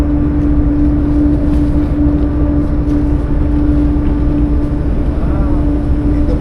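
A passenger ship docking at Calapan pier gives off a loud, steady engine drone with a low hum and constant rumble, unchanging throughout and close by.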